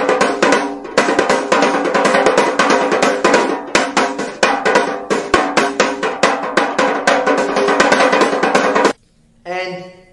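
Paired medieval nakers drums are struck in rapid rhythmic patterns, dense steady beats played close and loud, stopping abruptly before a short tonal snippet at the end.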